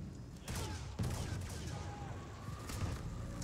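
Star Wars Battlefront weapon fire, a steady fusillade of blaster shots and booms with laser-like whines running through, loud and continuous for a few seconds.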